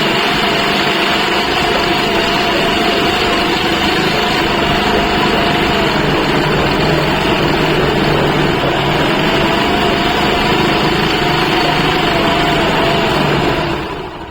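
A sewing machine running a line of stitching along a blouse waistband strip, a loud, steady, continuous whir held close for the whole stretch before easing off at the very end, with no voices.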